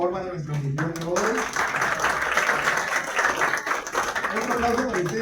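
Audience applause for the evening's host at a FuXion business leadership gathering in Lima Norte, a steady wash of clapping filling the room, with a voice or cheer briefly heard at the start and end.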